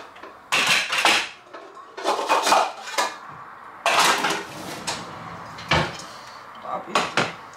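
Cooking pots and kitchenware clatter in a home kitchen while curdled yogurt is prepared for çökelek, with repeated loud clanks and knocks in irregular bursts, close to the microphone and without talk.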